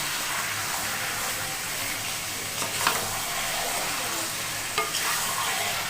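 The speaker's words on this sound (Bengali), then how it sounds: "দিয়ে দেব স্বাদ মতো লবণ। দিয়ে একটু নাড়িয়ে নেব।" Mutton curry with salt stirred in a pan, a steady close sizzle and hiss of frying beneath occasional scraping strokes of the spoon, with no voices.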